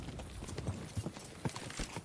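Horse hooves clip-clopping in a video game, a steady run of close, moderately loud hoof thuds with a faint mechanical clatter underneath.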